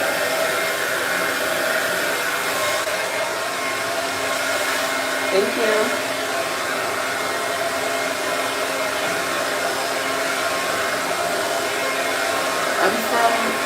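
A hair dryer blows steadily at close range the whole time, a loud constant whoosh, with a voice speaking briefly over it.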